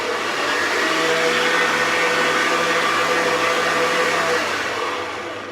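A stand mixer whisks Swiss meringue buttercream in a steady, loud motor whir with a faint hum beneath, holding constant for several seconds before easing slightly at the end, with no talking.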